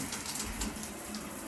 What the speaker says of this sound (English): I'm going to turn the water on and see if we get anything.